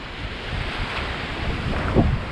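Atlantic Ocean surf at Daytona Beach, Florida, with a steady wash of breaking waves and wind buffeting the microphone, swelling into a louder surge near the end.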